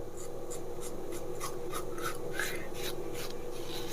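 A plastic razor shaves skin in a motel bathroom. It makes a quick series of dry, raspy scraping strokes, roughly two per second, close to the ear over a steady low background hum.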